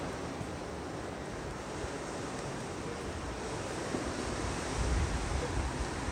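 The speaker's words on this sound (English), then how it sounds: "These are wind gusts, definitely." Wind gusts roar through a torrential rainstorm under a tornado warning, a steady, dense, broadband rush of wind and rain that swells slightly near the end, with no talking.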